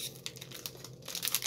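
Plastic packaging for an Oko planeswalker deck crinkles and crackles in quick, irregular bursts during unboxing, close and fairly loud with no talking.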